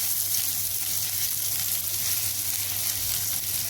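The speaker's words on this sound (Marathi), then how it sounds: "त्यामध्ये अगदी थोडंसं तेल ओतणार आहे, 2 बारीक चमचे. त्यामध्ये लसूण आलं परतून घेणार आहे आपण चांगलं." Garlic and ginger fry in about two small spoons of oil in a frying pan over high heat, giving a steady, close, hissing sizzle that holds evenly throughout with no talking.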